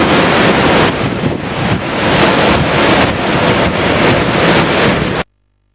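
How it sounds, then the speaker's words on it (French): Strong wind storm on a Thursday morning in Kalemie, loud continuous roaring gusts buffeting the microphone with surging, wave-like swells for about five seconds before cutting off abruptly to silence. "Cette tempête qui a soufflé ce jeudi matin"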